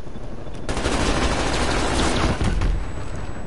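LC-10 submachine gun in the Call of Duty Cold War game fires a loud, continuous burst of rapid automatic shots, close up and sustained for a few seconds without talk.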